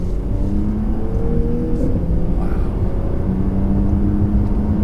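2018 Porsche Panamera 4 accelerating moderately in manual mode with paddle shifters, engine tone rising in steps through gear changes, heard from inside the cabin as a steady, fairly loud hum without talking.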